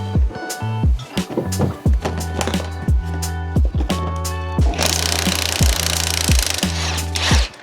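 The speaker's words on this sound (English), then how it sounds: "The impact gun makes a huge difference here." An impact gun hammers off a motorcycle's front sprocket during a chain replacement, firing in repeated sharp rattling bursts with brief pauses between them and ending in a longer sustained run, loud and close, with no talking.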